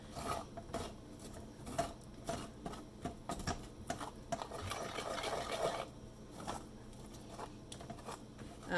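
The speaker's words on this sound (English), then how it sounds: "you're just cooking and stirring it around until it gets hot and the flour seizes up" Playdough being stirred in a pot on a gas stove as the flour mixture cooks and seizes up; steady scraping and rubbing strokes with irregular clicks, close and moderately quiet, no voices.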